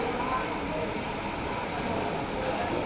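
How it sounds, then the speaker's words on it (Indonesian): A car engine runs at a raised 2000 RPM during an air-conditioning system check and recharge, holding a steady, constant drone throughout with no rise or fall. "Kemudian RPM 2000 digas. RPM 2000 dinaikkan."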